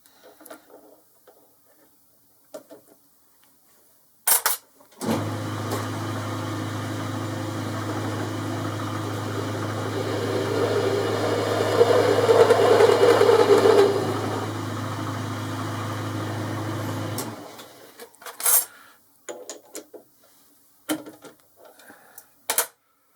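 A metal lathe cuts a countersink into the end of a headstock handle, giving a steady machining hum with a faint tonal whine that holds for about twelve seconds, with sparse clicks and handling noises before and after.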